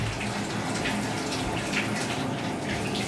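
A tap runs steadily for washing hands after making a pot, a constant close gush of water splashing into a sink with faint shifting splashes throughout.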